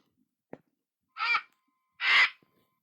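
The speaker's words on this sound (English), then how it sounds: "Vulture." Vulture call, a faint click followed by two short, rough, hoarse bursts, the second louder and longer, close and alone with no talk.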